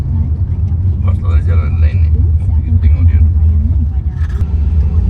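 Cars idle and rumble in a traffic jam at the Singapore checkpoint, a steady low engine drone with occasional passing swells, under close conversation.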